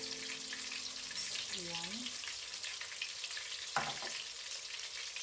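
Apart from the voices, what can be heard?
frying anchovy omelette (tortang dilis) in pan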